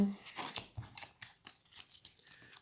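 Cards from the Star Realms game are drawn and slid off a deck one after another in a quick run of soft papery snaps and flicks, close and quiet.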